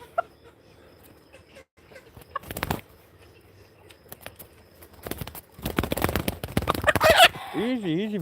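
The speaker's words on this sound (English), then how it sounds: "Here's the new rooster." A new rooster clucking, with several short bursts of clucks and flapping among faint handling noises, close to the listener, and someone speaking softly nearby.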